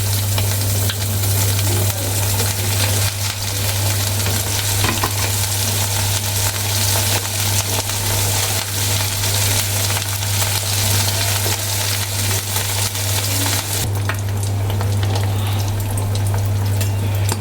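Bata fish frying in hot oil, a steady loud sizzle and crackle running close and unbroken, with a low constant hum beneath and a brighter hiss rising near the end.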